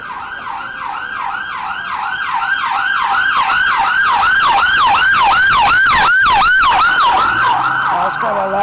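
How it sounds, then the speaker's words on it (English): A very loud, rapid yelping siren repeats in quick, even cycles, building as it passes close by, with road noise beneath. "That's got a loud siren."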